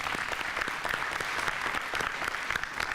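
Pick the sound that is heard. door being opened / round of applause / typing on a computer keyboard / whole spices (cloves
round of applause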